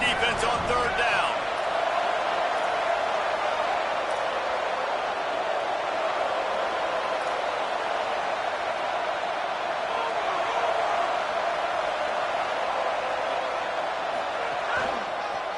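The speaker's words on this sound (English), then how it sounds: "Decibels rising as the crowd gets behind this defense on third down." Steady crowd roar swells from stands full of fans behind the defense on third down in a college football video game, Georgia against Florida State, a dense continuous wall of noise with no clear breaks.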